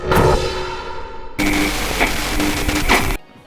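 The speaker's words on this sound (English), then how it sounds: "how I made those nice glitchy and mechanical sounds using a couple of easy tricks" Glitchy, mechanical sounds built from extreme compression artifacts: a buzzing, tonal texture that cuts abruptly into a denser, harsher burst full of sharp clicks and stutters, then drops off suddenly.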